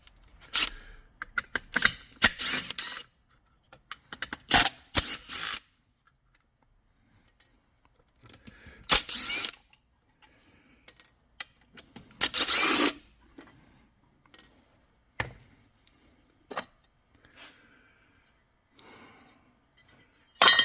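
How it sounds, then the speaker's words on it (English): Muffler cover coming off a Stihl MS660 chainsaw, with scattered metallic clinks, taps and tool handling noises in short bursts separated by quiet gaps, close by, no talking. "So let's go ahead and pull this muffler cover off."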